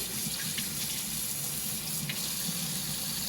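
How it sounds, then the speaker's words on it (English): Tap water runs steadily into a sink while stickers are rinsed off a vase, a constant close hiss of flowing water. "So I'm going to just rinse that off now."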